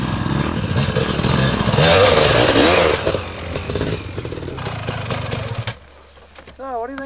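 A dirt bike rides a trail over loose rocks, its engine snarling loudly and revving up and down with clattering impacts, while someone speaks over it before the engine drops to a quieter idle at the end.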